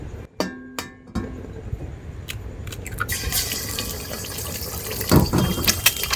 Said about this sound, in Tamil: ஆயில் ஊற்றிக்கலாம்.